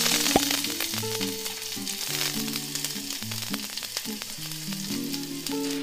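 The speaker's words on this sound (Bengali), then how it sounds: "পেঁয়াজ রসুনটা আমার ভাজা হয়ে গিয়েছে।" Chopped onion and garlic fry in hot mustard oil in a pan, a steady close sizzle that runs throughout with faint clinks of stirring and no voices.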